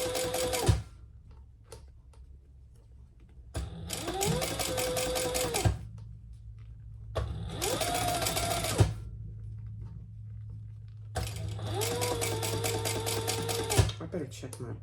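Domestic sewing machine stitching in several bursts of steady rapid mechanical whirring and clatter, each a couple of seconds long with pauses between, close by, with someone speaking quietly during the gaps.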